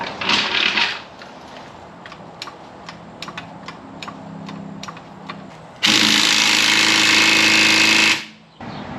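A power tool works on a car's rear wheels during a brake job on a Pontiac GTO, giving a series of sharp ticking rattles, then one long, loud continuous whirring burst that cuts off abruptly.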